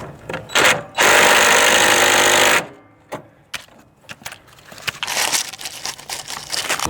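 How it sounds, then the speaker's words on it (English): Wrench and socket turning a nut off a steering arm bolt on an old green Craftsman riding lawn mower with a 20 HP Briggs & Stratton twin engine, heard as a sustained ratcheting buzz followed by scattered metallic clicks and clanks, close up. "You need a half inch box end wrench on that side and a 9/16 socket for that side."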